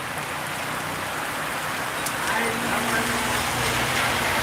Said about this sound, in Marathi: कसं बघतोय पावसाकडे आणि पाऊस पण तुम्हाला दिसत असेल